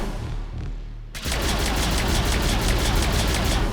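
Adas Anti-Synthetic Rifle firing in Mass Effect 3 with no recoil, a brief low hum and then a sudden burst of rapid, evenly pulsed shots that continues loudly and steadily to the end.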